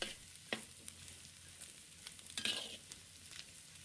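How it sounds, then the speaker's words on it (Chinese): Carrots and corn kernels are stir-fried in a wok, with a faint, soft sizzle under occasional scrapes of a spatula against the metal, one stroke louder than the rest. "紧接着，胡萝卜和玉米粒加入锅中，继续翻炒"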